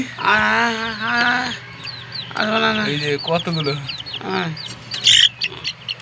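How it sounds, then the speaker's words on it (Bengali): Chickens cluck repeatedly on a rooftop garden, close by, in rising and falling bursts. A person speaks briefly over them, and a sharp squawk rises near the end. "এই যে এখানে আমাদের মুরগি"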